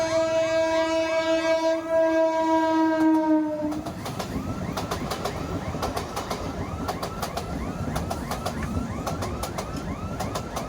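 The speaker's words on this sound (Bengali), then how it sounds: "কারণ ট্রেন আসছে নামখানা থেকে।" Sustained horn blasts from a train coming from Namkhana ring out at a closed railway crossing gate, followed by loud rhythmic clickety-clack of the wagons rolling past close by, with no talking.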